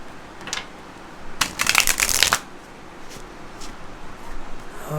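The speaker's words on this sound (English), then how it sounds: "I'm going to shuffle one more time" Tarot cards being shuffled by hand: a dense papery riffle bursts out for about a second midway, framed by softer, scattered card flicks and quiet room tone.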